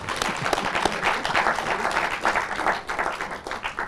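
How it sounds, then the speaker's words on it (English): Audience clapping at a school gathering in Ghana, a dense burst of hand claps filling the room at a steady, lively pace for several seconds, with faint voices mixed in. "Clap for him."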